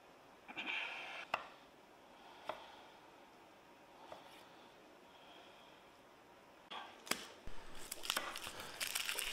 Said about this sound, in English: you want to chop this up into nice bite-sized little pieces